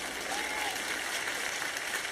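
Light, scattered clapping from a church audience at a Spanish-language Joyce Meyer Ministries event, a thin steady patter of hands heard at some distance with no voices over it.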